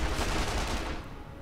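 Gunfire in the video game Sniper Elite V2, a short dense burst of rapid, loud overlapping shots that fades slightly toward the end.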